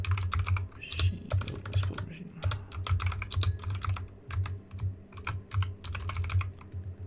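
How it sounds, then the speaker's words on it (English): Computer keyboard typing, steady bursts of clicky keystrokes close to the mic with a low hum underneath, no voices. "Sorry if my keyboard's loud."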